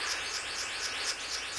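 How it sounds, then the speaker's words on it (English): A male bluebird of paradise calling during his mating display, giving a rapid series of thin, repeated high chirps with a steady pulsing rhythm against a faint background hum. "A male bluebird of paradise is advertising for a mate."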